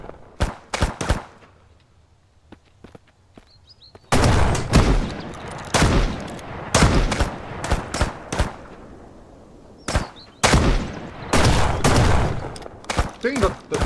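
Gunfire in the survival game Mist Survival: sharp shots cracking in bursts and rapid volleys, a few isolated reports early, then dense loud clusters, close and punchy with brief quiet gaps.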